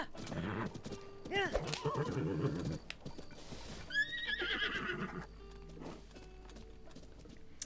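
Horse neighing in The Legend of Zelda: Tears of the Kingdom, a couple of rising whinnies over game music and clip-clopping hooves, with people talking at the start.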